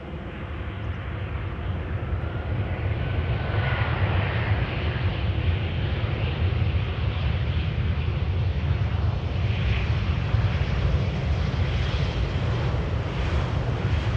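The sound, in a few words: KLM Embraer airplane landing at Amsterdam Schiphol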